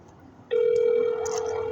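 A telephone line tone starts abruptly after a half-second of quiet and holds steady and fairly loud to the end, a continuous ringing or dial tone from a call to a multi-million-dollar organization going unanswered.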